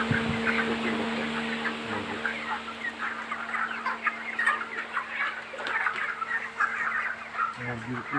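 Broiler chickens in a poultry shed during hot weather make continuous dense overlapping clucks and soft chatter from many birds at close range, over a steady low fan hum.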